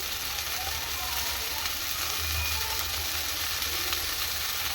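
Steady sizzling from a hot pan as a curry of North Karnataka-style donnagai (chilli) is stirred with a little water, with faint scraping and stirring sounds mixed into the constant hiss.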